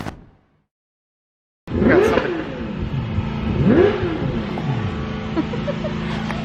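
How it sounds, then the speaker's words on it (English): A car engine revs nearby in a garage after a moment of silence, its pitch climbing and falling in two distinct surges over a rough, clattering idle. "Got somebody revving."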